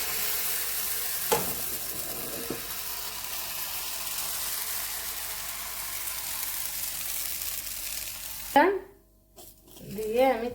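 Urad dal batter hitting a hot, oil-brushed pan, a soft continuous sizzle and frying hiss that runs steadily, then a couple of clattering knocks and scrapes near the end.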